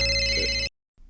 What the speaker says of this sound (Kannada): ಎಲ್ಲೋ ಮೊಬೈಲ್ ರಿಂಗ್ ಆಗ್ತಾ ಇದೆಯಲ್ಲ